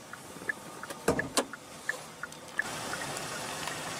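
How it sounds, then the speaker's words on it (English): Electric power windows on a luxury car, a faint motor whir with a few soft clicks and thumps as the glass moves, followed by steady quiet background noise. "All windows are fully automatic."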